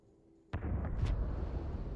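A Starfield video game explosion, set off against modded Starborn enemies, bursts suddenly after a quiet start, followed by a couple of quick sharp blasts and a sustained rumbling roar.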